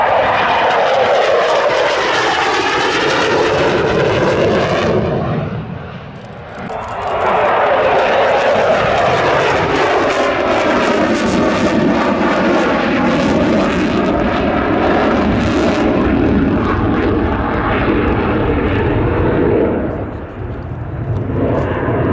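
An F-16 jet flying a SoloTurk airshow display at Leszno roars loudly and continuously, its broadband thrust swelling and dipping briefly as it passes through manoeuvres.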